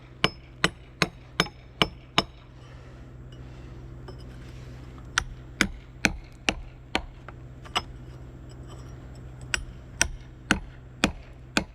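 A hand hammer strikes flagstone to split it. About eighteen sharp, ringing blows land close by in quick groups of several, with short pauses between the groups, over a low steady hum.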